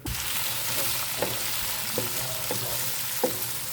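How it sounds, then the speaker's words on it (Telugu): A tempering of urad dal, mustard seeds, cumin, dried red chillies and curry leaves fries in hot oil. The sizzle is close and steady, with small pops and crackles scattered through it, and nobody speaks. "తాలింపు వేగిపోయింది కదండి"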